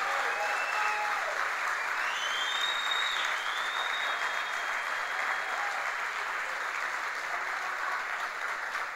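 A church congregation applauds during a Sunday worship service, producing a dense, steady wash of clapping that stays loud and even for the whole stretch, with no voice standing out.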